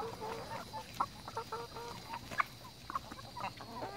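Hens cluck and chatter in short, scattered bursts at moderate distance, with a busy, excited quality over faint outdoor background, as they are given tomato worms as treats.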